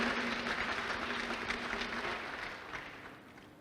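An audience at a medical pledge-taking ceremony gives a sustained round of applause, dense and fairly close, tapering off over the last second.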